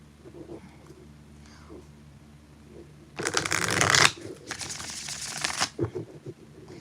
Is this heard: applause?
no